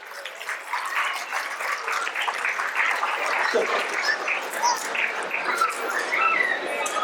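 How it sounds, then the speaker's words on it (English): Audience applause at an Ugadi celebration 2024, a steady round of clapping from a crowd lasting several seconds, fairly close and continuous. "A big round of applause."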